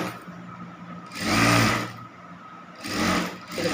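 Sewing machine stitching a folded cloth bag handle, running in two bursts of a steady whirring hum with a quieter pause between them, close and alone with no talk.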